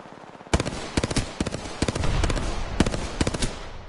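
Gunfire in a shooter video game comes as loud, close rapid bursts of shots, clustered in quick volleys over a constant hum of game background.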